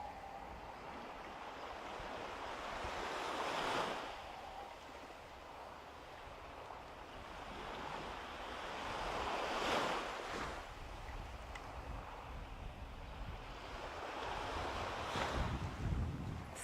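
Waves roll onto a seashore in slow surges under steady wind buffeting the microphone, each swell rising and falling every few seconds.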